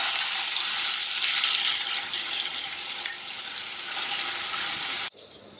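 Onion paste with slit green chillies fries in a pan, giving a steady broadband hiss of sizzling with faint stirring, ending abruptly near the close.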